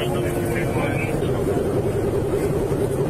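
Car engine roaring steadily at high speed with a continuous loud drone and wind rush, sustained and close throughout, with no clear pause.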